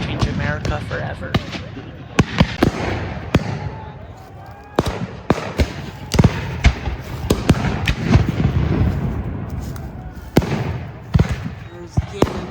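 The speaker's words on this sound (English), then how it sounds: "There's the cannons" Cannons boom at a Civil War reenactment battle in Jefferson, Texas, sharp heavy blasts scattered irregularly over twelve seconds amid distant crackling musket-like pops, with someone narrating between the shots.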